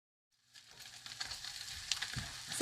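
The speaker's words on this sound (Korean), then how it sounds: "스팸은 기름을 두르지 않은 팬에 이렇게 앞뒤로 뒤집어 가면서 노릇노릇 구워줍니다." Thick slices of Spam fry in a dry pan with no oil. A faint, steady sizzle builds after a short silence and keeps crackling, with a soft scrape as a slice is turned.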